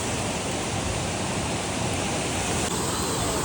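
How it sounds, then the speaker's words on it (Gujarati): Water rushes steadily through a stream by Kileshwar Mahadev temple in the hills during heavy rain, a dense, even roar with no pauses and no voices. "મસ્ત મજાનો નીર નેહડામાં જાણે પાણી જતું હોય ને એવું લાગે છે અત્યારે"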